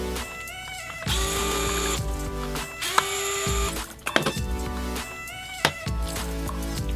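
A Fisher-Price Laugh & Learn Counting & Colors Smoothie Maker toy has screws driven out by a whirring powered screwdriver in several short bursts, with clicks and small plastic knocks between them.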